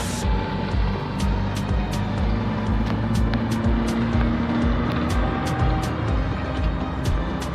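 2010 Toyota Innova fitted with a Blackcore upgrade drones along under steady acceleration, a continuous engine hum inside the cabin with faint ticking and road noise.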